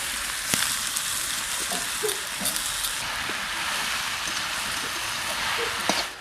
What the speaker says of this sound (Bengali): ফোড়নটা হয়ে গেছে, এবার আমি লাউগুলো দিয়ে দিচ্ছি।